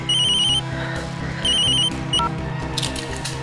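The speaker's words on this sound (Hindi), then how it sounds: "बेटा तो फोन उठा ले" A telephone rings in a household in repeated electronic bursts, each ring lasting about half a second, loud and close over a steady background of music.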